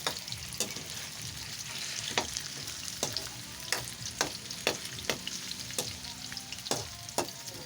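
Food frying in a home pan sizzles steadily up close, broken by regular sharp scrapes and clacks of a utensil stirring every half second or so, with no talking.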